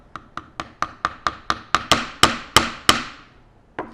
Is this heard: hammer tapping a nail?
yes